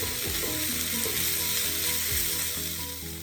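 Chicken pieces browning in a hot pan with onions for a chicken tajine with green olives and preserved lemon give off a loud, steady, close sizzle that holds without a break and has no voices over it.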